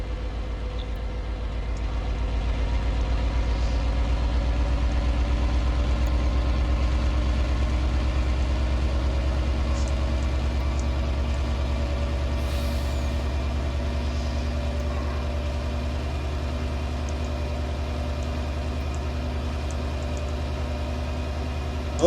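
A lorry's heavy diesel engine idles steadily on a farm after carrying grain, a deep constant rumble holding throughout without any clear air-brake hiss.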